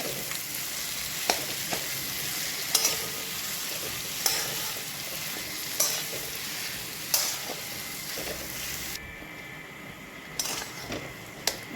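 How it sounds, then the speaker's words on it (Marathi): Mashed potato filling for Mumbai-style vada pav being mixed in a pan, a low sizzle under repeated spoon clinks and scrapes against the pan at a slow, uneven rhythm, with no voices. "बटाटा टाकल्यानंतर मिक्स करून घ्यायचं।"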